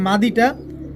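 A Sapchila pigeon, male of a pair, gives a short close coo with two rising pulses, heard clearly and alone.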